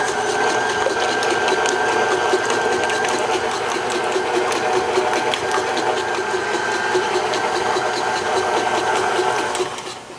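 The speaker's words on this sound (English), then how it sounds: "We'll lower this down and we'll mix all these ingredients together until they're well combined." An electric stand mixer runs steadily while combining orange blossom cake batter, giving a loud, continuous whirring motor drone with a fine rattling texture that slows and fades right at the end.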